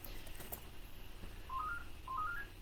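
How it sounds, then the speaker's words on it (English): A telephone rings faintly indoors, with two short rising electronic trill bursts in quick succession, distant and quiet under a low background hum. "That's the phone, which I'm going to ignore."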